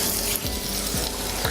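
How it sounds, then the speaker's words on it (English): Beans and spring onions hitting a hot pan, a short burst of steady sizzling and frying with a few soft clicks of stirring, close and fairly loud. "Right, let's pop our beans and our spring onions in."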